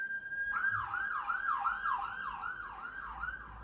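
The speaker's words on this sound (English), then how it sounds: "And there goes a siren." An ambulance siren wails in a steady rise-and-fall cycle, fairly loud and close, with a low rumble of traffic underneath and no talking.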